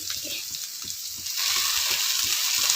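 Cooking ingredients roast in a little oil for a drumstick-leaf dish, giving a steady close sizzle and crackle with faint stirring taps, growing louder and denser in the second half.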